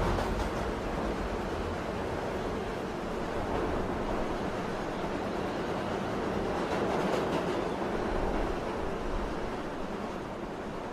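A metro subway train runs steadily throughout, its broadband rumble and rattle holding at an even, fairly loud level with no pauses and no voices.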